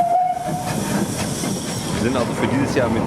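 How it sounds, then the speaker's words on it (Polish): Polish P8 steam locomotive pushing a train at a festival in Bochum, with steady loud steam hiss and a brief whistle-like tone at the start, plus rail rumble throughout. "widzimy pociąg z naszą P8 w pozycji pchającej"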